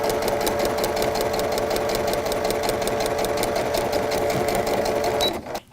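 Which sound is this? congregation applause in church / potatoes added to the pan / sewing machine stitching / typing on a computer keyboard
sewing machine stitching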